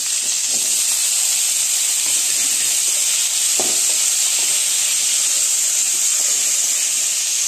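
Cumin, curry leaves, chilli, garlic and tomato sizzle in a hot pan while tempering for bun dosa, a steady loud close hiss with scattered small pops and crackles throughout, no talking.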